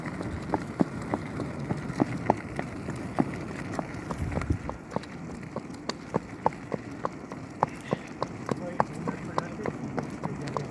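Horse hooves trot on a hard road in a steady, brisk clip-clop rhythm while the horse tows a person on roller skates, the sharp hoof strikes close and clear, with intermittent talking and rolling wheel noise beneath.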